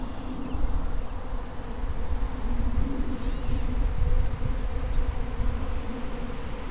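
A honey bee swarm buzzes in a dense, steady drone, close and continuous, with no talk.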